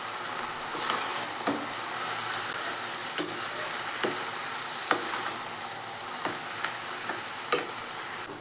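Fenugreek leaves and lentils fry with a steady sizzle in a pan while a spoon stirs through them, scraping and clicking against the metal at irregular intervals, close and clear, with no one talking.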